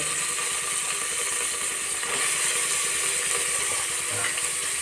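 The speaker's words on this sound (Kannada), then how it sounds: "ಇವಾಗ ವೆಜಿಟೇಬಲ್ಸ್ ಹಾಕ್ತಾಯಿದ್ದೀವಿ" Vegetables such as beans, carrot, peas, tomato and potato hit a hot frying pan for bisi bele bath, giving a steady, dense sizzle and crackle that holds loud and even throughout, with no talking.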